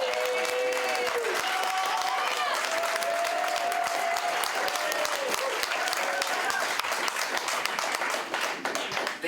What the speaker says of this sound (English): So give a warm round of applause.